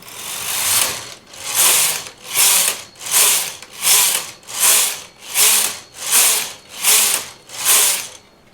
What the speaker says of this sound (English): just for fun I'm going to take my tension from 6 down to 4 and knit 10 rows with the thin yarn